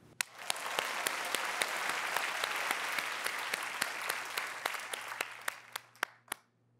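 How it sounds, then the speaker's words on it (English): Applause from a virtual university graduation commencement audience, a steady wash of many hands clapping that thins out into a few scattered claps before stopping. "We absolutely still do applaud you"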